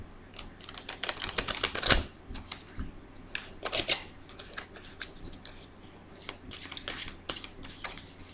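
Tarot cards are shuffled and drawn on a table, making irregular soft snaps, slides and ticks at close range, with one sharper flick standing out amid the quiet rustling.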